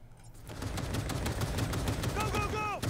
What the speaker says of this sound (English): he's shooting the hell out of his own dude